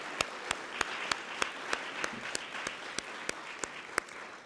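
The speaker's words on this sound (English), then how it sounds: "So let's cheer her on." Crowd applauding at a Richmond City Council celebration for the new council president, steady clapping with sharp individual claps standing out at a regular beat over the dense patter, moderately distant, no talking.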